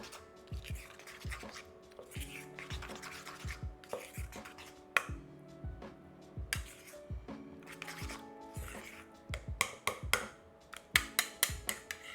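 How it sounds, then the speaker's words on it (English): Salt is stirred into a bacon, leek and feta borek filling, giving a series of soft scraping and tapping strokes of a utensil against a bowl, irregular and fairly quiet, without speech. "So we're going to get some salt in there and mix that in."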